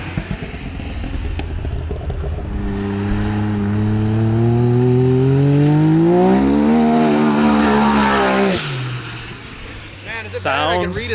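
A big-turbo side-by-side X3 engine revs up to about 8,600 rpm, its pitch climbing in a loud sustained rise before cutting off, with voices talking around it and a faint clatter as it settles.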